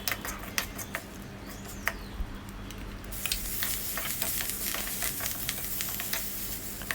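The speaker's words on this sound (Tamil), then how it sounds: "நம்ம தாளிப்புக்கு கடுகு, உளுத்தம் பருப்பு, 2 ரெட் சில்லி கிள்ளி போட்டிருக்கேன்" Mustard seeds, urad dal and two broken red chillies sizzle and crackle in hot oil for tempering, a steady close frying hiss with scattered sharp pops that grows brighter and busier partway through.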